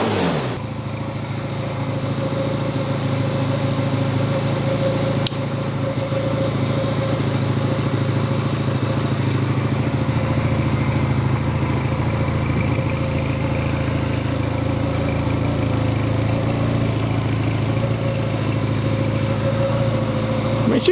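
A neglected Honda CM250 motorcycle, pulled from the back of a garage, idles steadily and loudly up close with a constant low engine drone and mechanical rattle, and brief voices come through over it.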